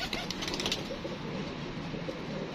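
Close, low cooing from teddy pigeons kept by a breeder, with a short burst of fluttering wings early on over constant background hum.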